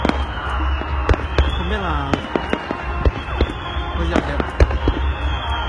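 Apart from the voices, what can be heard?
fireworks exploding at a Japanese summer festival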